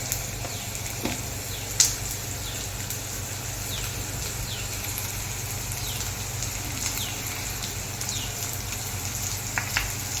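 Onions frying in a pan with turmeric and chili powder stirred in give a steady, faint sizzle and hiss, with a low hum underneath and a few soft clicks.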